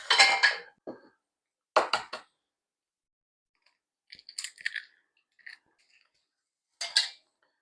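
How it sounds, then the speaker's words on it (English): An egg is cracked and separated between bowls: sharp clinks and taps of shell on glass come in short bursts separated by silence, close and clear, with no talk. "separate the egg and place yolk in one bowl and the whites in another"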